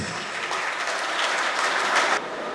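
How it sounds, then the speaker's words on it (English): An audience at a Rotary installation ceremony applauds loudly as a district governor and his spouse walk onto the stage, a dense continuous roar of clapping that swells toward the end and then cuts off. "and his spouse and Damayanti onto the stage to the loud applause of the audience."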